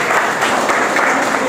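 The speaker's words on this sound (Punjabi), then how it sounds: "ਵੈਰੀ ਗੁੱਡ, ਤਾੜੀਆਂ ਮਾਰੋ।" A crowd at a youth gathering about the Lok Sabha elections claps steadily, dense continuous applause, close and loud, with no pauses.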